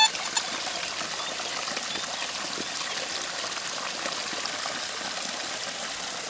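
Water sloshing and trickling steadily as a Nokta Simplex metal detector is lowered into water for a waterproof test, a close continuous gurgling stream after a brief knock at the start, with no talking.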